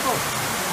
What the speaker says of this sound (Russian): Вот он, водопад, творение природы.